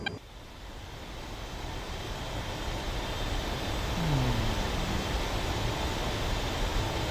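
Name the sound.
A-10 Warthog jet engine taxiing in flight simulator video game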